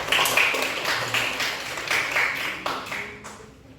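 Applause from students in a classroom teaching practice session, a steady patter of many hands clapping fairly close, slowly thinning toward the end.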